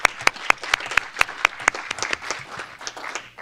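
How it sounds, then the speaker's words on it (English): Scattered applause in a town council meeting room: a handful of people clapping with distinct, fairly close individual claps, loosely rhythmic at first and thinning into irregular claps. "how about one more round of applause for Steve for his many years of service?"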